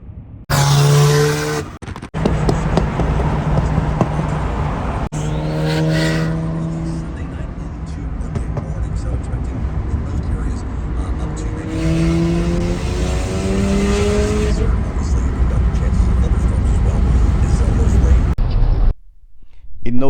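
Engine drone and road noise from a 420 hp Mazda RX7 FD on a freeway road trip, steady and loud throughout with a brief dropout near the start and end, with people talking over it.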